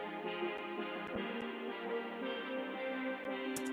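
A sustained synthesizer chord of bright, buzzy sawtooth tones from massive layered saws holds steady and thick, with a few faint clicks scattered through it.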